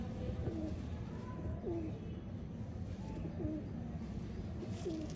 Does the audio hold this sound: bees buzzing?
no